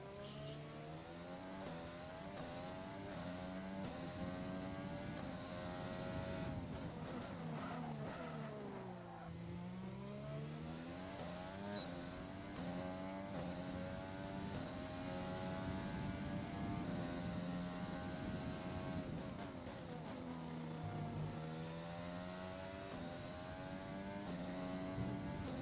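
An F1 car engine screams through a qualifying lap in the F1 2020 racing game, a steady high-pitched whine that rises and falls with gear changes and throttle, continuous and alone.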